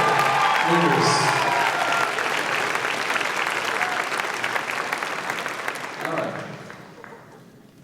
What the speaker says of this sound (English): How about one more a round of applause for our Big Stick Award winners